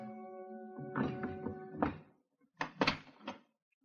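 A door is opened in an old-time radio drama sound effect, with several faint wooden thuds and bumps following a fading tonal note, quiet and without voices.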